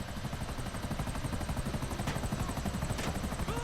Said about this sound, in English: I'm using a helicopter because I don't like driving that far